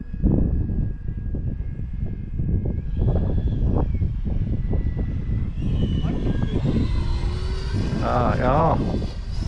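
An E-flite radio-controlled model airplane flies overhead at an airfield, its electric motor whine rising in pitch and sweeping past over steady wind noise, with people talking throughout.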